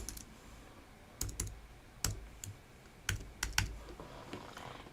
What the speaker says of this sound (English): and typed thank you